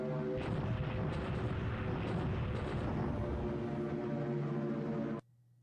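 Bombing in the War in the Pacific: Admiral's Edition strategy game, with aircraft pounding infantry near Sabang. A dense, continuous roll of loud rumbling explosions and artillery-like booms runs for about five seconds, then cuts off abruptly into a quiet tone.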